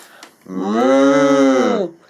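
A single long, loud cow moo, close by, holding a steady low tone for over a second before trailing off.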